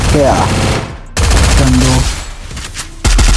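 Dense automatic gunfire from a shooting video game comes in loud bursts with brief gaps between them. Someone talks over the shooting.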